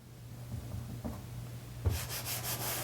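Steady gritty rubbing of a clay bar dragged back and forth across contaminated car paint, growing rougher and more abrasive partway through, close up with a low hum underneath.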